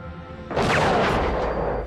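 A sniper rifle shot from the film Sniper: a sudden loud, close blast that bursts in after a quiet start and rings out with a long, rough decay.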